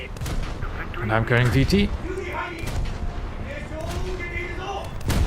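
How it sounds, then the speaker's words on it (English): Coastal fortress guns pounding a frigate in a naval combat game, several heavy booms and gunfire bursts rolling under a voice as he talks. "Still being shot by the fortress."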